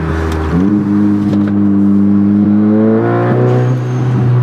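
A turbocharged VW MK7 Golf R with a CTS blow-off valve, turbo elbow and stock intake revs loudly and steadily nearby, its engine tone climbing, with a brief airy whoosh as the revs drop near the end.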